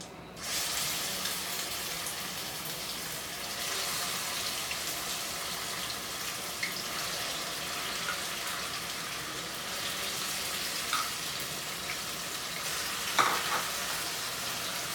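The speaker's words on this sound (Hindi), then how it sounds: "इसको हम भूनेंगे, ट्रांसपेरेंट होने तक भूनेंगे।" Onion puree frying in hot oil, a steady loud sizzle that keeps going without a break, with an occasional light stir or clink of the spoon in the pan.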